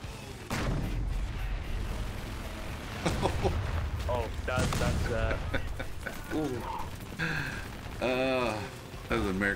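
Bursts of American .50 cal machine gun fire in a combat flight game, rattling in rapid volleys amid other battle noise, with a voice talking over parts of it.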